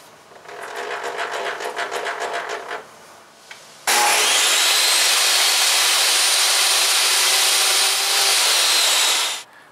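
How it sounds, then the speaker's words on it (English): Plywood is cut for a teardrop trailer bulkhead, starting with a few seconds of rhythmic back-and-forth hand-saw-like strokes, then a loud, steady power-saw whine that runs through the board for about six seconds and stops; no talking. "I've got my plywood set up on the table, so we'll get it marked and cut."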